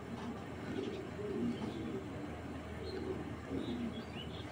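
A Belgian racing pigeon coos softly in a few low, rounded phrases, faint and close against a steady background hum, with no voices.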